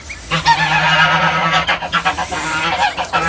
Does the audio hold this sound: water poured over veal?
no